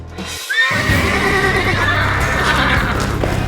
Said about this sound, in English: The wildest horse in the county is brought to Booger, the horse whisperer.